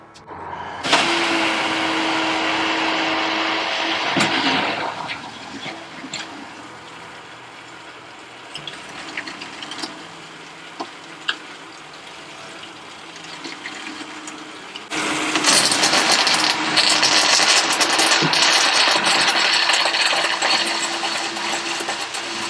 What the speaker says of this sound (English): Go turn on the aft bilge pump.